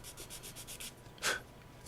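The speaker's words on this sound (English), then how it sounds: "I just take basically my sanding file, and I'll come in and square up that cut a little bit" A sanding file squares up a cut on a frame, giving faint, quick rasping strokes in a steady rhythm, then one louder, longer scrape near the end.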